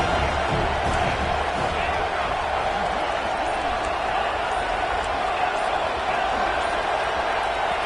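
A loud stadium crowd in a Madden football video game, a continuous dense roar of cheering and noise during a third-down play, steady and unbroken throughout.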